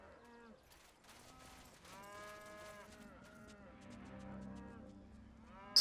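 Cattle moo in the video game Wasteland 2: several long, low, drawn-out calls overlap one another, fairly faint at first and steadier toward the end, over a quiet game background.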